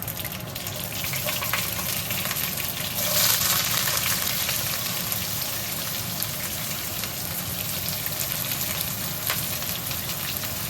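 Onion, garlic and green chili sizzle hard in hot oil, a dense rain-like crackle and hiss that swells briefly near the start, then holds steady, loud and close, with no talking.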